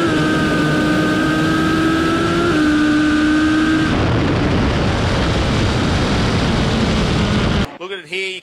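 Australian top fuel drag motorcycles accelerate down the track in a loud, sustained engine roar whose pitch steps up through the run and then dissolves into broad noise, ending abruptly with a brief voice.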